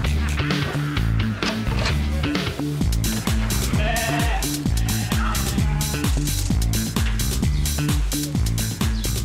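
Sheep bleat over a loud, steady rhythmic music bed, with a few short bleats rising above the beat.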